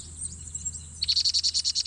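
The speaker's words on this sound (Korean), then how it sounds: "입안에 먹이가 들었는데도 보챔을 계속합니다" A common cuckoo chick in a nest built by a vinous-throated parrotbill gives high, rapid begging calls, a quick pulsing run of shrill notes that starts after a softer wheezy stretch, close and loud.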